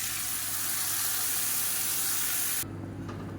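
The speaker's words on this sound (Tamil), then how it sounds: "நம்ம அரைச்சி வச்சுருந்த இந்த சட்னியை சேர்த்து நல்லா வதக்கி விட்டுக்கலாம்" Ground chili chutney with asafoetida hits hot oil in a kadai and sizzles in a loud, bright, steady hiss that drops abruptly to a quieter low bubbling.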